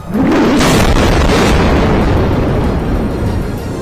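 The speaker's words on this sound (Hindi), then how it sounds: "रात में एक के बाद एक कई धमाके होते दिखे" A heavy, roaring blast of explosions at night in Gaza during the Israel-Hamas war fills the whole clip, loud and rumbling without a break, like a large explosion heard at close range.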